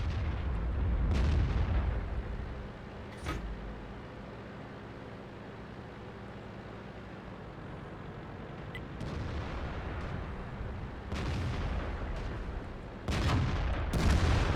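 Tank cannon shots in World of Tanks, with loud broadband booms near the start, at about three seconds and again near the end. A steady rumble of battle noise fills the quieter stretches between them.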